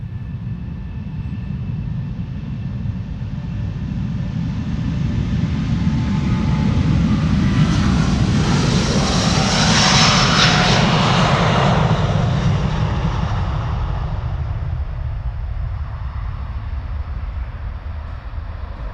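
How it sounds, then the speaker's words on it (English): A Delta Airlines Airbus A330neo departing Amsterdam Schiphol for Boston rumbles in loud and low, swelling to a peak with a rising whine as it passes close, then fading away again, heard alone with no talk. "This is Delta Airlines going to Boston, Massachusetts, flight 243, A330neo"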